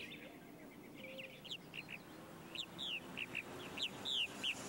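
Purple martins call from a colony nesting site in a run of quick, rising chirps and warbling notes. The calls are fairly faint, grow busier toward the end, and sit over a soft outdoor background.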